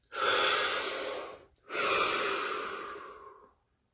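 Two long, close breaths, a deep airy inhale followed by a slow exhale, each lasting over a second with a short gap between them.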